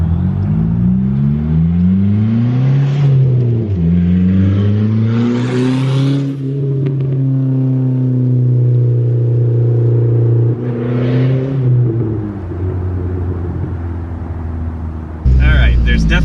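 A Dodge Neon SRT-4 engine revs up and down repeatedly with the exhaust cutout open, a loud, rumbling open exhaust rising and falling in pitch, close by.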